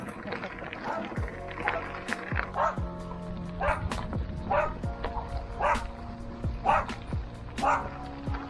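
Several dogs bark repeatedly beside a gravel park trail in Benicia, California, in sharp, fairly close bursts spread throughout, with some yips mixed in and faint talk underneath.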